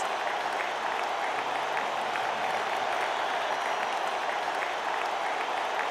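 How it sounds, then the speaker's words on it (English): A video game crowd applauds steadily and evenly throughout, a continuous wash of clapping with no voices standing out. "amid the fervent cheers and applause"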